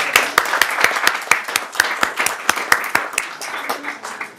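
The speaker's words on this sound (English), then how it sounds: "Can we get a round of applause?" A modest group at a community board meeting claps in a loose, sparse round of applause, with distinct individual hand claps ringing out crisply and close by.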